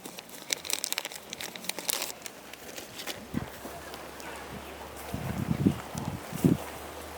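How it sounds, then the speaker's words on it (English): Crinkling and tearing of a plastic soil testing capsule being opened by hand, a series of close, sharp rustles and snaps with background room noise. "let me just open the capsule"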